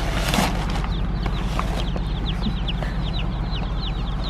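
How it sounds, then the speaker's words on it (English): Chickens cluck and chirp steadily inside a van hauling about a hundred birds home from the farm, a continuous close flock chatter with repeated short calls over a low engine hum. "hold these chickens the rest of the way"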